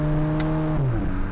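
A VW Polo GTI engine on the road holds a loud, steady drone, then the pitch drops as the revs fall. A short hiss cuts in briefly, and no one speaks.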